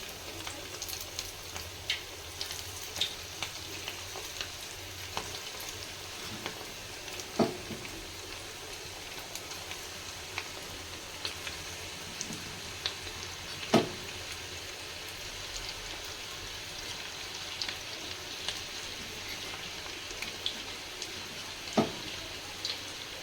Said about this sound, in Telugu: చికెన్ 65 డీప్ ఫ్రై కోసము ఒక్కొక్క పీస్ ఇలా వేసుకోవాలండి.